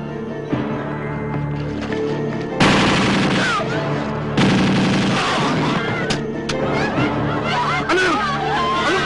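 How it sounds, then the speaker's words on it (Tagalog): Bursts of gunfire ring out in a dramatic Filipino action scene, several loud rapid volleys mixed with shouting voices and crowd commotion. "Anong putukan yun?"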